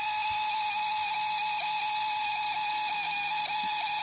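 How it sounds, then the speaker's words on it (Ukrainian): The servo drive of a faulty voltage stabilizer runs with a steady high-pitched whine and hiss, broken by small, soft popping clicks at irregular intervals, close and continuous, with no talk. "там ще, окрім цього такого звука, ще прострілюються такі хлопки. Це коротить сервопривід"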